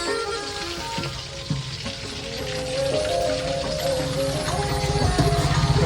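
Chow mein frying and being stirred in a pan, a continuous crackling sizzle with scraping stir strokes that grows louder toward the end, no talk.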